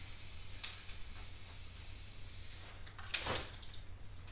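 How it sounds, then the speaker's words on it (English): A spray paint can sputtering as it sprays poorly: a faint, steady hiss gives way to a brief, louder burst of spray near the end. "I don't know why this can is spraying like this."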